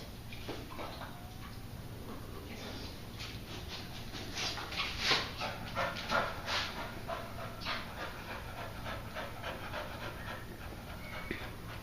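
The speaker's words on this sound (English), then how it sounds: "She's still got a lot of panting going on." A dog panting steadily at close range after getting mud in her paws, with soft shuffling and handling noises and a few brief louder bursts midway, no talk.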